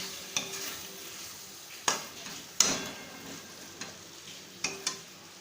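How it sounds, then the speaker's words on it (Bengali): Fried potatoes being stirred with spices in a pan, a soft sizzle beneath several sharp scraping and clinking strokes of a spoon against the pan, spaced irregularly and close by, with no talking. "ভালো করে আলুগুলোকেও এর মধ্যে মশলার সাথে কষিয়ে নিতে হবে।"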